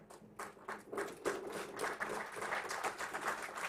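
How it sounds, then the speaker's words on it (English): Audience applause at an inaugural session of an event fills a hall as a steady wash of many hands clapping, moderately distant and fairly quiet. "I think that's a clap for India rather than for me"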